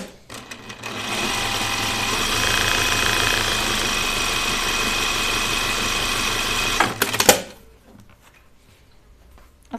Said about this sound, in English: So okay, I'm gonna edge stitch my strap.